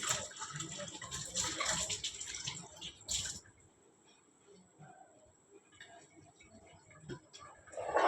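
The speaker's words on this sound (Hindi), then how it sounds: "कटोरी धो के दी बोली।" A small bowl is rinsed under running tap water in a home kitchen, splashing and trickling loudly at first, then easing to quieter drips and clinks before another burst of water.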